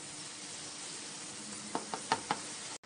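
Chopped bottle gourd being stirred into a thin Bengali rui fish curry with potatoes in a pan hisses softly for a while, then several sharp spatula knocks land against the pan before the sound cuts off.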